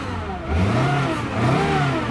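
A 2011 Toyota Camry with low miles runs smoothly with no engine faults, its steady mid-pitched hum swelling twice as if lightly revved, close by and with no one talking.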